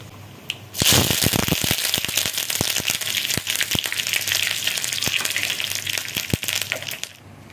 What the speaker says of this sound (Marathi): करबेव घालता